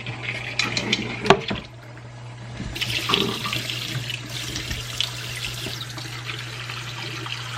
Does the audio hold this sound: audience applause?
no